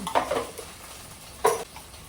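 Sliced okra (bendakaya) frying in a pan with salt and a pinch of turmeric, giving two short bursts of stirring and sizzling, fairly quiet and close, with a softer hiss between them.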